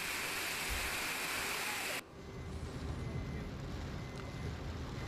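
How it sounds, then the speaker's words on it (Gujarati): Rainwater rushes through flooded market streets in Gujarat as a loud, dense roar; after an abrupt cut midway, the flowing water continues somewhat softer and more distant. "બજારોના રસ્તા પર પાણીનો ધસમસતો પ્રવાહ જોવા મળ્યો."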